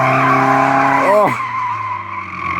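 Loud, sustained tire squeal from a drifting car, with steady tonal screeching that sweeps and bends partway through, backed by engine noise and close up.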